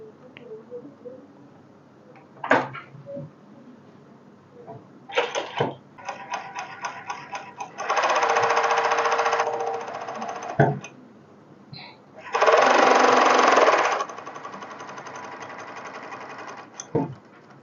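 A 5-thread overlock sewing machine runs in two bursts of steady, loud whirring stitching, with quieter clicks and mechanical handling sounds between them and no talking.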